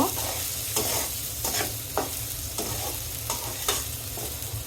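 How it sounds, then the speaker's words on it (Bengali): Green chili, salt and onion are stirred in a frying pan, with a steady sizzle cut by several sharp scraping strokes of a spoon at an uneven rhythm, close up and with no talk. "কাঁচামরিচ, একটু নেড়ে লবণ কাঁচামরিচ পেঁয়াজের সাথে মিশিয়ে নিব।"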